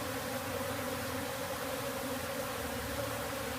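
A honey bee swarm moving into a cavity produces a continuous, dense buzzing drone that stays steady and fairly close, with no pauses and no voices.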